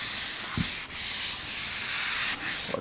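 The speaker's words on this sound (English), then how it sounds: "Next step is some sanding, just some very light. This is 400 grit on a foam pad" Light sanding with 400 grit paper on a soft foam pad scuffs the finish of a 1964-style ES 335 guitar body in several smooth back-and-forth rubbing strokes, close and steady, with no talking.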